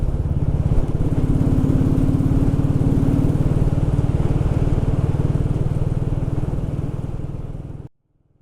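A Royal Enfield Classic 350 motorcycle thumps along at a steady pace, its single-cylinder engine close and continuous for about eight seconds before cutting off abruptly.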